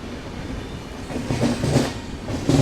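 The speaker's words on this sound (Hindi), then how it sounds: "बिल्कुल केएसआर बेंगलुरु राजधानी एक्सप्रेस, या फिर नम्मा राजधानी एक्सप्रेस यहाँ पे क्रॉस हो रही है।" KSR Bengaluru Rajdhani Express passing on the Shiradi Ghat line in Karnataka, a rumbling train with rhythmic wheel clacks growing louder near the end, heard without voices.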